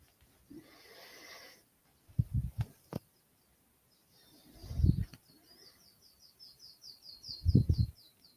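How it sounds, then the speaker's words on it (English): Birds calling on a cool morning, short bright chirps and a rapid run of high notes, fairly distant and faint, broken by several low breathy bursts close to the microphone. "Birds have been more vocal as the mornings have cooled down."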